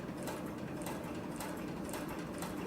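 A cylinder-arm triple-feed sewing machine stitches through four layers of 3 to 4 ounce upholstery leather, giving a steady, quiet mechanical whir with a soft rhythmic pulse, close and continuous.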